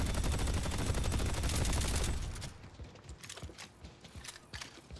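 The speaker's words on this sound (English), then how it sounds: "Building a sentry." Engineer building a sentry gun in Deadlock modded with Team Fortress 2 content: a loud, dense rattle of mechanical clanks and ratcheting for about two seconds, then scattered sharp clicks and thuds over quieter game background.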